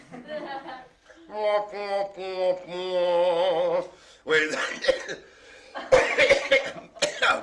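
A voice makes a brassy, drawn-out imitation of a trombone, then breaks into several harsh, close coughs with a bit of laughter mixed in.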